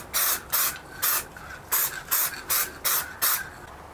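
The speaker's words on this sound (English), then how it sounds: "Now I can glue the picture on the plywood using this spray glue." Short hissing bursts from an aerosol can of spray glue, about eight quick sprays in a steady rhythm, close and clear with no voices.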